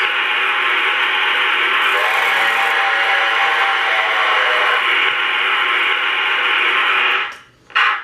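A Lionel Postwar 746 J Class model train engine runs with a loud, steady white-noise hiss from its tender and a faint mechanical hum. The sound stays even throughout and cuts off briefly near the end.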